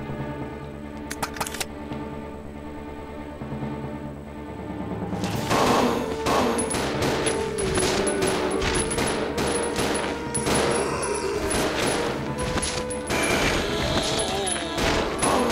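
Rapid, dense gunfire from Resident Evil Zero, quiet at first and then a loud, sustained barrage of repeated shots with clattering action for the second half.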